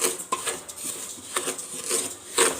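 A spoon scrapes and clinks against a pot while sugar melts slowly over low heat, producing irregular rasping strokes and small metallic taps, close and moderately quiet.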